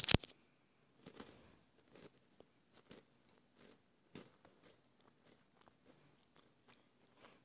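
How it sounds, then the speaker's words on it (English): Someone crunching saltine crackers close up, with a sharp crack at the start followed by sparse, quiet bites and chewing crunches spread at irregular intervals. "There's Serena eating her saltine crackers."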